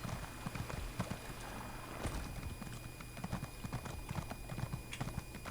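Rhythmic clip-clop of horse hooves trotting steadily in the video game The Elder Scrolls Online, close and clear, with occasional faint rustling underneath.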